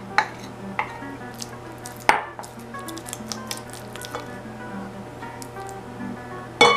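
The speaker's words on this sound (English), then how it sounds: "To make the pumpkin pie filling, we just have to mix all the ingredients together well." Pumpkin pie filling of an old colonial recipe being mixed in a bowl, with soft wet stirring and scraping broken by a few sharp clicks of utensil against the bowl, close and fairly quiet.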